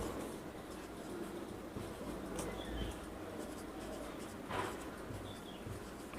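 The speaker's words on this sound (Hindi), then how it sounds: "चलिए देखिए यहाँ पे लिखेंगे" Faint scratching of pen or chalk writing out a matrix proof during a maths lesson, soft irregular strokes alone against a quiet room hum with no talking.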